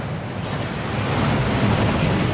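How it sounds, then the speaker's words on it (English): A waterfall in the Hogwarts Legacy video game roars as a broad, continuous rushing wash of falling water, loud and steady throughout, swelling slightly toward the end with no talk over it. "That waterfall washes away all enchantments."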